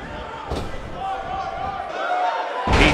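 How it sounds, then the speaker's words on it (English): A wrestler is body-slammed onto the mat in a wrestling video game, giving a sharp loud thud near the start and another at the end over crowd noise, with commentary running underneath. "He slams him down with authority"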